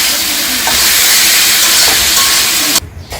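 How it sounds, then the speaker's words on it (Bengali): Malabar spinach sizzles and hisses loudly in a pan with fried onion and garlic, with a few soft stirring scrapes, before the sizzle cuts off abruptly near the end. "এখন এই যে শাকটা দিয়ে দিতেছি। এখন ভালো করে নাড়তে হবে"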